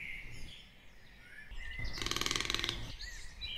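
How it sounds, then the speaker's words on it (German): Bird chirping in a forest scene of a Playmobil film, a burst of bright, rapid tweeting calls rising midway over a soft background and then fading. "So einen Vogel wie dich habe ich hier noch nie gesehen."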